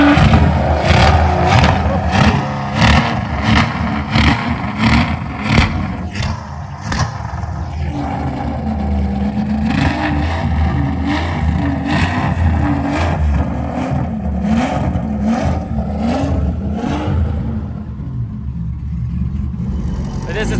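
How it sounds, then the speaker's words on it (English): An Aston Martin Zagato GT car fires up and revs repeatedly, its engine rising and falling in loud, close bursts with sharp pops, then settling into a wavering idle while people talk over it. "do a startup of the Zagato as well"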